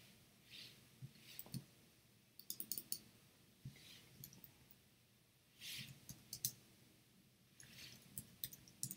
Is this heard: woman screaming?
no